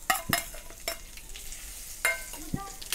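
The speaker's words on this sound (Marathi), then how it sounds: "तर आपण आता साखर आणि बटाटा मिक्स करून घेऊया" Potato and sugar stirred in ghee in a pan make light sizzling under irregular clinks and scrapes from a spoon against the metal, close and moderately loud.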